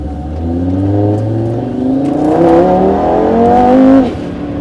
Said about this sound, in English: this weather running semi-slicks, it just spins all 4 tires